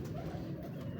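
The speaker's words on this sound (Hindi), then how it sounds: "ये बड़े कबूतर हैं और ये इनके बच्चे भी बीच में ही हैं" Pigeons coo softly in a low, murmuring drone, a brief continuous throaty sound from a group of adult birds and their young.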